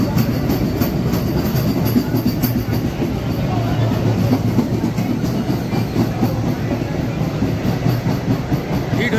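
An AC local train running from Ranaghat to Sealdah, a loud continuous rumble of wheels and carriage noise with faint rhythmic clatter, heard from on board.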